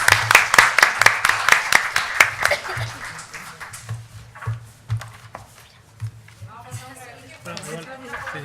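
An audience applauds a panel at a literary conference with dense, loud clapping for about three seconds. The clapping then thins into scattered claps beneath people talking.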